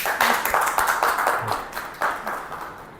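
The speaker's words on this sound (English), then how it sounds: "Let's all give a big round of applause for Mr. Vipin Sharma." A school audience claps for a guest speaker at Shamrock International School, a modest, uneven patter of individual hands close by that thins out toward the end.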